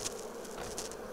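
Honey bees buzzing at an open hive during a frame inspection near early spring, a steady insect drone with a few louder passes of individual bees close by, continuous and without voices.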